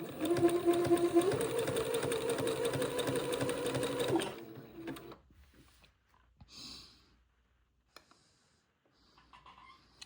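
A sewing machine zigzag-stitches a diaper shirt with a close, steady whir for about four seconds, then stops and leaves faint handling noises and near silence.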